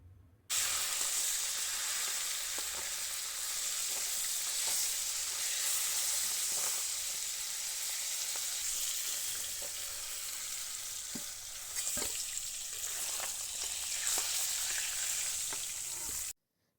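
Large salted fish pieces, left unscaled, fry in a pan of hot oil with a steady, dense sizzle that runs unbroken and fairly loud, with occasional pops and crackles rising from the bubbling.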